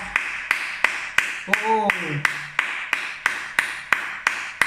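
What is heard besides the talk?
people clapping in praise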